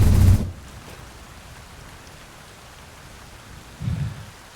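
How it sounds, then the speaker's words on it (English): Steady rain hisses through a video game scene, an even wash of falling-water noise, with low rumbling swells at the very start and again near the end. "I love the rain noises too."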